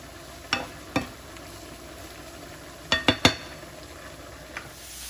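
Ground beef cooking with seasoning in a pan, a soft sizzle underneath sharp clinks and scrapes of a utensil against the pan, several close knocks coming in quick clusters.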